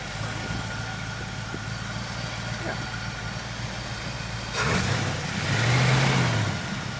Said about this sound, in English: We're going to fire it up now and then drive it.